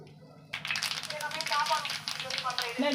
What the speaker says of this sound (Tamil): இப்போ கல்லில் எண்ணெய் ஊற்றிக்கலாம் கொஞ்சமாக எள்ளு போட்டுக்கலாம்